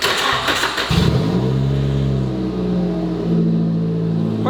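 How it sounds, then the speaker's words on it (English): A car engine cranks and fires up after a brief burst of starter noise, then settles into a steady, close idle with a faint rise in revs. "we're gonna give both cars a startup"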